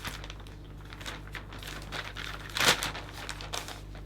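Cellophane wrapping crinkles as it is handled around a hand-tied Christmas flower bouquet, with soft rustling throughout and one louder, sharper crunch partway through.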